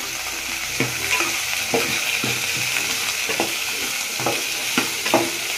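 Chopped, washed vegetables for sambar frying in oil, a constant close sizzle broken by regular scraping strokes of a spatula against the pan.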